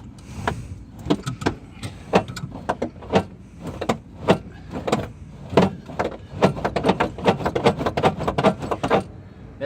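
On a drift car with freshly rolled fenders, a plastic inner wheel liner rubs against the tyre, making rapid, irregular bursts of harsh squeaking and scraping, loud and close, repeating throughout.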